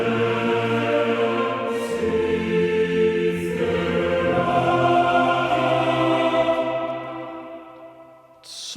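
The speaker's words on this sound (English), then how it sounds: "It's a choir of a couple of men and women, and they're singing some phrases" Sustained voices of a mixed choir singing long, blended phrases with soft breathy accents, swelling and then fading near the end.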